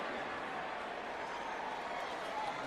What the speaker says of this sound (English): Barkley's got this crowd buzzing